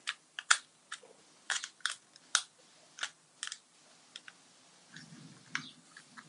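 Someone types on a computer keyboard hooked up to a Raspberry Pi, with quiet, uneven clusters of key clicks and short pauses between them, close and faint.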